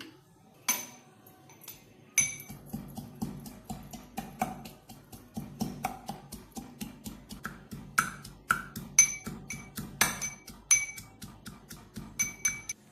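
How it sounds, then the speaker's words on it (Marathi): Ginger and garlic pounded in a mortar and pestle for a guava kadhi tempering: a close, steady run of sharp clinks and dull thuds, repeated blow after blow for several seconds with no talking. "याच्यामध्ये हे आलं लसूण आहे ना, ते जरा खलबत्त्यामध्ये चेचून घेऊ फोडणीसाठी"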